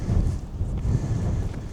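Strong wind gusts at the Cliffs of Moher buffet the microphone in a loud, low rumble that swells and eases over a couple of seconds.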